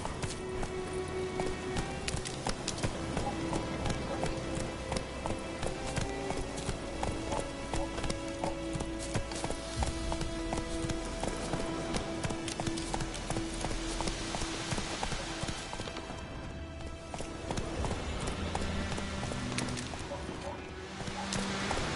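In The Witcher 3 video game a horse gallops, its hooves making a quick rhythmic clip-clop that runs throughout at moderate loudness, mixed with ambient game sound and a voice speaking over it.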